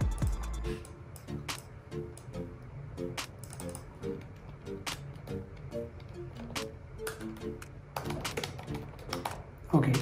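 Rapid keystrokes on a computer keyboard while designing a website in Canva: close, steady clicking with occasional louder key strikes, continuing for the whole stretch over a faint background.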